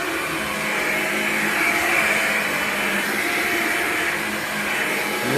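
Hoover LiNX cordless vacuum cleaner running with its brush roll on carpet picking up coffee grounds: a steady, moderately loud motor whine with a airy suction hum, slightly rising near the end, no talking.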